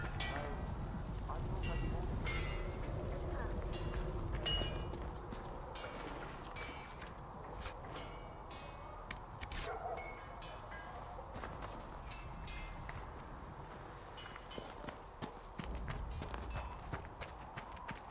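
Horse hooves clip-clop steadily while riding in the fantasy video game Dragon Age: Inquisition, a fairly close rhythmic patter over a busy game soundscape with ambient noise and occasional sharper hits.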